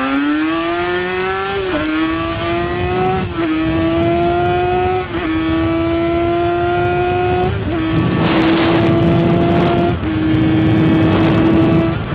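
A KTM RC8 superbike engine revs hard through a series of gear changes, its pitch climbing steadily then dropping with each shift, a loud, continuous, close-up mechanical howl with no voices.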